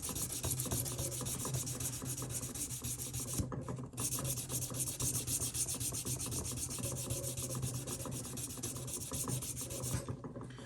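Sandpaper is rubbed back and forth over the frets of a Japanese Stratocaster guitar in a continuous dry rasping scrape, close and steady, with only brief pauses.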